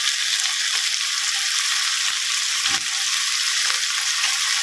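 Clams stir-frying with roasted chili paste, garlic and chili in a hot pan, giving a steady close sizzle with light stirring scrapes throughout and no talk.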